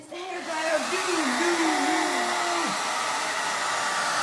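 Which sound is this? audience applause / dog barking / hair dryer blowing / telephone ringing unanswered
hair dryer blowing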